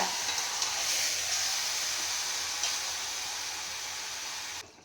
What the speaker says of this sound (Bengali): আমার চিকেনটা এই পর্যন্ত হচ্ছে, দেখতে পাচ্ছ আমি কষাচ্ছি